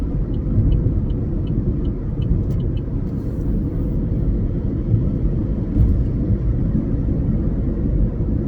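A steady, loud low rumble from a car's engine and road noise while driving continues evenly throughout, with no voices heard.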